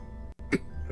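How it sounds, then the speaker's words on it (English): A single short cough, close and fairly soft, sits over a steady low background hum, preceded by a brief moment of near silence. "Got a cough."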